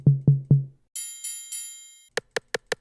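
808-inspired percussion samples from the Cali Bounce drum kit play one after another: three booming low tom hits, then three ringing metallic cowbell-like tones, then four sharp, dry rimshot clicks, each alone and crisp.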